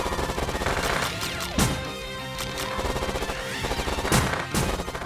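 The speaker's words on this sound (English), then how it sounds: "I'm gonna keep my distance and just use the machine gun fire here." Machine gun fire in the Nintendo Switch game Panty Party, a dense, continuous rattle of rapid shots over busy game music and effects, with sharp impacts or crashes near 1.6 and 4.2 seconds.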